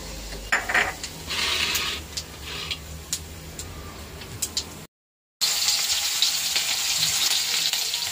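Fish frying in a hot pan with black cumin seeds, a close crackling sizzle with light ticking spatters, broken by a brief dropout before the hiss returns brighter and steady.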